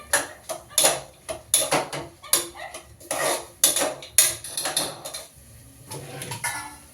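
A spatula clanks and scrapes repeatedly against a pan while ingredients are fried for sambar, sharp metallic knocks in an uneven rhythm, close and fairly loud, with no voices.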